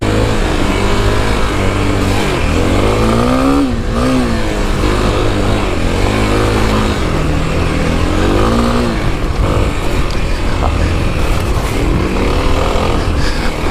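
2021 Kawasaki KLX300 dirt bike riding a forest trail, its engine rumbling loud and close, with repeated revs that rise and fall as the throttle opens and closes over a rough, continuous drone.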